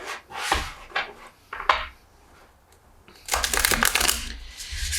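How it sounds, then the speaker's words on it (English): A deck of tarot cards being shuffled by hand, with short rustling riffles early on and then a denser, louder stretch of brushing and flapping near the end, close up and without talk. "Having a little bit of trouble shuffling that deck."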